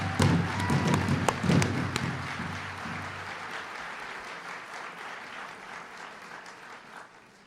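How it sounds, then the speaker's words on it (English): An audience applauds long-serving employees at the Department of the Interior, a loud burst of clapping with a few sharp hits up front that gradually thins and fades away. "Let's give them a round of applause."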